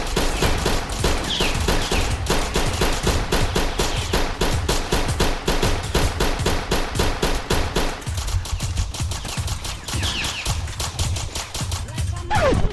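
Rapid gunfire in a Roblox South Bronx hood roleplay game, dense repeated shots in fast bursts crackling loud and close for most of the stretch, thinning toward the end.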